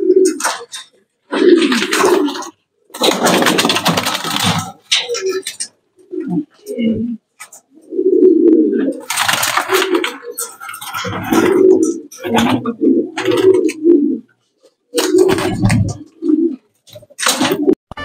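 Racing pigeons coo loudly and close by in a loft during training, with repeated low throaty calls in uneven bursts and brief pauses between them, while a person speaks at times.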